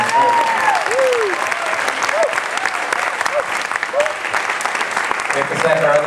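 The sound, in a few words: audience applause for a singer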